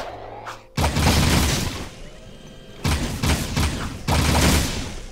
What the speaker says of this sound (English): Are they shooting fucking fireworks off already?